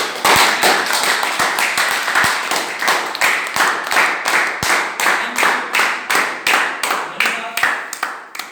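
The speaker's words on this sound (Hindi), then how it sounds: "ताली बजा के दिखा दो।" An audience claps hands together in a fairly rhythmic unison beat, many sharp, loud, evenly spaced claps that continue throughout.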